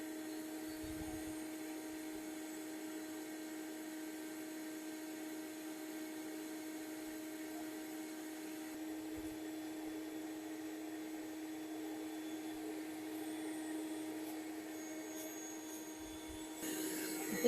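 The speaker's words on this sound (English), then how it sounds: "And so this vacuum is literally set up to not pick them up." A bee vacuum runs steadily throughout a beehive removal from a rotting tree, a continuous whining motor hum with a fixed pitch and faint rubbing and handling noises over it.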